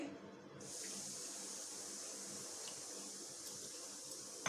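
Running water pours steadily from a tap into a bowl of lentils being rinsed, a continuous soft splashing hiss starting after a brief quiet moment.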